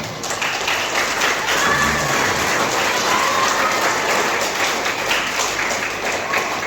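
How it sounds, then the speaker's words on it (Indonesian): Applause from the audience at a graduation ceremony for Quran school students in Biringkanaya, Makassar, a dense steady wash of clapping that holds at an even level for the whole stretch. "Tepuk tangan."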